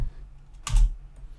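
A single close, sharp keystroke on a computer keyboard, like a key being struck to enter a Terraform command in a quiet room.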